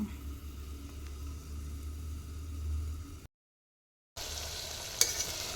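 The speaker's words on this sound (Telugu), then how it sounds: "ఇవంతా బాగా ఫ్రై అయిపోతాయి అన్నమాట" Brinjal pieces frying in a pan with onion, chilli and ginger paste: a soft, steady sizzle with a low hum beneath it, then a brief cut, then a brighter, hissier sizzle and a small clink.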